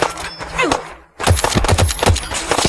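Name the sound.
IMI .50AE Desert Eagle gunshots in Fallout 4 video game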